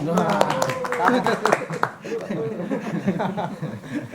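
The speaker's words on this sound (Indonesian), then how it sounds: "Harusnya ada tepuk tangan ini" Scattered clapping and chuckles from a small audience at an informal coffee-chat gathering, a few sharp claps early, then softer laughter with talk running over it.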